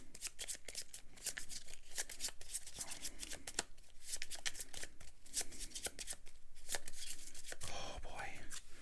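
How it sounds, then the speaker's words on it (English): Playing cards are shuffled during a solo board game of Legacy of Yu, a rapid series of crisp riffling snaps close to the microphone, repeating throughout with soft rustles between. "which means this is going to advance forward"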